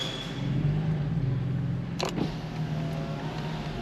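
A BMW M4 Competition F82 with the 450 hp engine and DKG7 gearbox runs close by with a low, steady rumble, a brief click sounding partway through.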